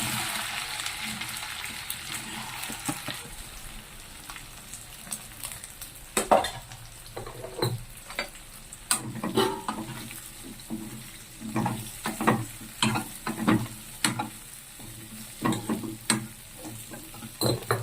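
Cumin and asafoetida tempering crackling in hot oil, then okra added and stirred, a soft sizzle broken by repeated scraping and clinking of a spoon in the pan, close up and without talk.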